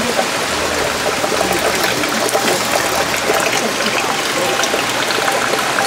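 Spring water pours and trickles at a mountain hermitage beside a waterfall on Gujeolsan, Korea, a close, steady splashing rush that runs continuously without talk.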